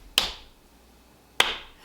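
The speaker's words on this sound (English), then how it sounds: "Slow clap." Two deliberate, well-spaced hand claps in a slow clap, crisp and close with a short room decay after each.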